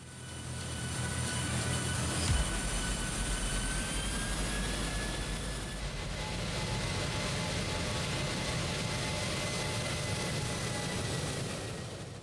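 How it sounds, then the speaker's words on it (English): A Boeing 737 accelerates down the runway at full throttle at night, its jet engines giving a loud, continuous roar with a steady whine through the whole run. "The captain applied full throttle, and the aircraft began accelerating quickly down the runway."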